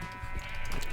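Sheep bleating in a Minecraft-style game, a short bleat or two against a steady background hum of game music and ambience.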